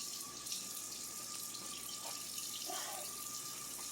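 Drops of water sputter and hiss in a hot pan while zucchini and eggs are scrambled, a steady crackling wash with a few brief louder pops.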